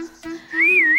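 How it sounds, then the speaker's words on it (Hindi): Loud human whistling rings out close by, a sustained tone that wavers and bends upward in a wobbling melody after a short lower note. "बड़ी जोर जोर से सीटियां बज रही हैं।"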